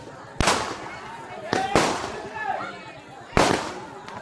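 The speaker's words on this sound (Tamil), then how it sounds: "பூஜை ஸ்டார்ட் ஆனதும் பட்டாசுலாம் வெடிச்சிருந்தாங்க" Firecrackers burst at a Tamil village temple fire-walking festival at the start of the puja: three sharp, loud cracks spaced apart, each followed by a short fading rumble, with faint voices in between.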